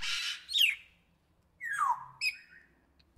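A cockatoo parrot screams in harsh, close, loud squawks, a long raspy call, then a pause, then two more sharp shrieks with descending sweeps, all in an otherwise quiet setting.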